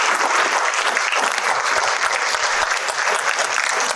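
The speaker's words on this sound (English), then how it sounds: "can we give Raven Leilani a big round of applause?" Audience at a literary conversation event bursting into steady, dense applause for about four seconds, a full room clapping continuously at even loudness.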